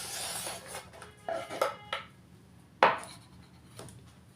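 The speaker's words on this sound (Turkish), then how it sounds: "Şimdi soğanlarımı doğruyorum." A knife chops onions against a board in a few separate, uneven strokes, close up, with one sharper cut standing out among softer taps.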